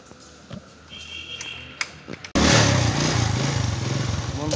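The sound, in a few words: motorbike riding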